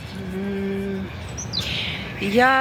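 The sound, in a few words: bird chirping before flying away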